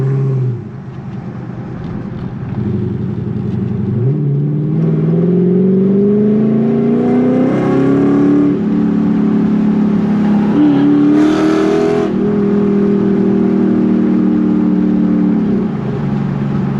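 A 2009 Dodge Charger SRT engine idles, then revs up and climbs in pitch in a couple of rising surges before settling back down, loud and close with no talking.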